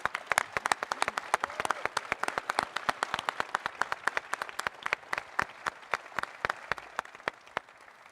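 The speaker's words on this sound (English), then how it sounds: "let's give him a round of applause" A press conference audience gives a round of applause for Coach Gary Williams. Individual hand claps stand out sharply and close over a softer crowd of clapping, a brisk irregular patter that holds steady, then thins slightly toward the end.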